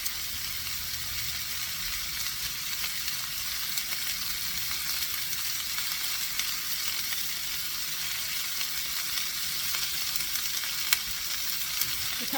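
Chicken breast sautéing in a pan over medium-high heat, a steady dense sizzle and crackle that holds evenly throughout, close and fairly loud with no talking.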